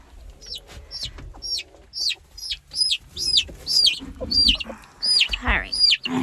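A baby chick on a small island homestead cheeps indoors in a rapid run of a dozen high, close peeps, with soft rustling underneath.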